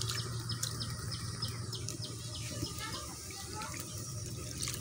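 Sapuni saag leafy greens washed in water, faint sloshing and splashing with birds chirping in the background and a voice speaking softly.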